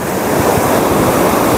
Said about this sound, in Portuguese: o mar é bem agitado! Olha essas ondas aí!